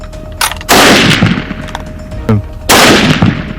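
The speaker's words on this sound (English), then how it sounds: "Good shot. That's putting him down." Rifle shots from hunters culling feral camels in the Australian outback, two loud, sharp cracks about two seconds apart, each ringing out and fading, with smaller knocks between them and no talk.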